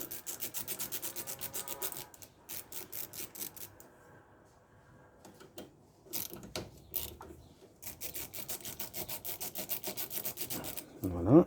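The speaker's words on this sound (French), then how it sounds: "Je préfère le cliquet vu que les vis sont vraiment pas serrées. Donc là, je dévisse les 5." Ratchet loosening the five lightly tightened screws on the fuel filter housing of an Audi A3, heard as runs of rapid close clicking that pause and resume, ending with a brief spoken word.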